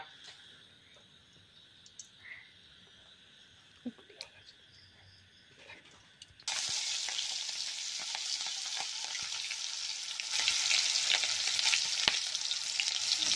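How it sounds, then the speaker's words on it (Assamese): Onions and a piece of potato dropped into a hot pan: quiet kitchen noise with a few clicks, then a sudden loud, steady sizzle that grows stronger as the frying goes on. "এতিয়া পিঁয়াজ দিলোঁ, লগতে আলু এডোখৰ গ'লগৈ নেকি।"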